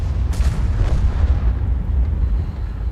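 A tank's artillery gun fires in a video game, giving a deep boom near the start that rolls into a continuous, heavy low rumble lasting several seconds, with no voices.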